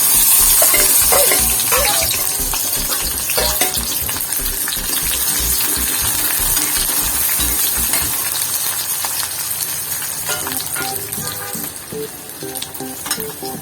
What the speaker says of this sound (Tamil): கடுகு நல்லா பொரிஞ்சு வருது